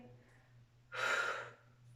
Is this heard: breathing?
yes